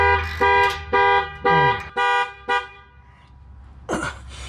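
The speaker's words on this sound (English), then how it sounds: "Don't have your key in your pocket because you'll roll over and hit the panic alarm." The horn of a 2020 Jeep Wrangler Unlimited Rubicon blares in loud, repeated honks as the panic alarm goes off, then cuts out and is followed by a short rustle.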